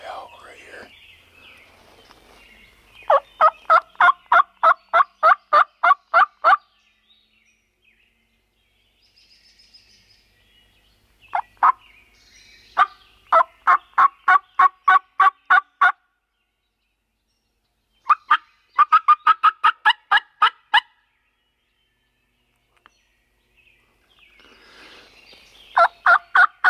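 Wild longbeard turkeys gobble in rapid rattling bursts answering calls, several loud volleys spread across the clip in a quiet outdoor setting, with faint whispering between them.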